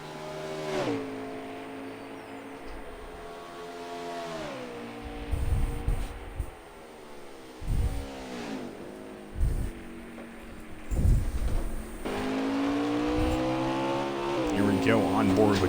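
NASCAR Xfinity race cars roar around the Road America road course, engines rising and falling through gear shifts and turns, with loud bursts as cars pass close, under a commentator's voice.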